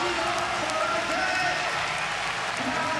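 Large street skateboarding competition crowd at a world cup final in Kitakyushu, a steady wash of clapping and cheering that holds loud and continuous throughout, with an announcer's voice faintly mixed in.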